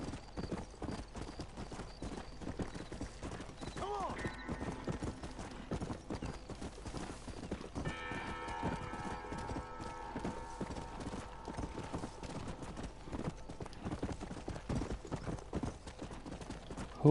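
Horse hooves clip-clop steadily on the ground in the Red Dead Redemption video game, a continuous rhythmic trot lasting throughout, faint and mixed with light game ambience.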